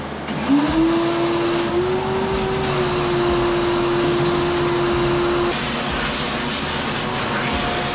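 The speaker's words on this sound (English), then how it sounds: "we're gonna have to vacuum up some of all this, well, all of this broken plastic in here" A vacuum cleaner whirs steadily and loudly, its motor tone rising at startup and holding, with rattling broken plastic debris and broadband noise underneath.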